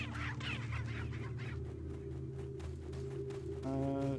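A chicken clucks in the video game Resident Evil 4 over a steady game background hum, with a sharper clucking call near the end and no talk.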